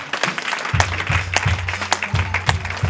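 A church congregation at a French-language convention service claps and cheers, a steady wash of applause with a few sharp hand claps and a rhythmic low thump from a backing instrument underneath.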